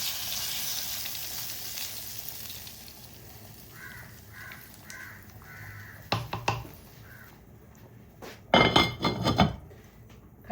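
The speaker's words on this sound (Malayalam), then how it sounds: "ഈ താളിച്ച് നമുക്ക് കറിയിലോട്ട് ഒഴിച്ചു കൊടുക്കാം" Hot tempering is poured into a Kerala chickpea curry, giving a soft sizzle followed by sharp clatters and a loud burst of bubbling near the end; a crow caws several times in the background.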